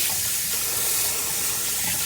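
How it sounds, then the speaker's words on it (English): Cold tap water runs steadily over cooked noodles in a kitchen sink for noodles with sesame sauce, a continuous close hiss of flowing water with no pauses and no voices. "I'm rinsing them under cold water"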